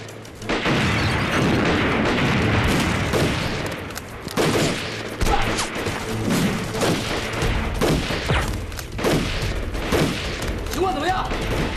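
Heavy machine gun fire in a wartime battle scene, with dense sustained bursts and booming shots that hammer on loudly, overlapped by shouting voices.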